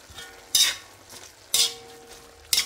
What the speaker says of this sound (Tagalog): pwede na natin ilagay ang cabbage. Haluin natin mabuti.